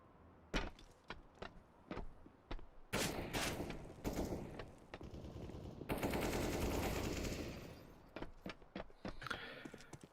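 Rapid bursts of video game gunfire crack out during a PAL 2020 group-stage esports match, with scattered single shots giving way to dense sustained automatic fire, loud and close.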